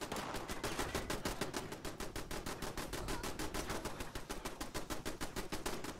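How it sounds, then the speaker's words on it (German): Continuous rapid gunfire fills a Fallout 76 battle at a power plant, with automatic turrets firing in steady, evenly spaced bursts that are loud and unbroken throughout. "Hier wird schon wieder geschossen."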